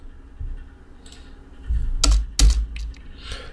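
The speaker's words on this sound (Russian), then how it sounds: "Два раза кликаем на кнопки Enter" Enter key on a computer keyboard pressed twice, giving two sharp, close clicks a moment apart over a quiet background with a few faint softer key taps around them.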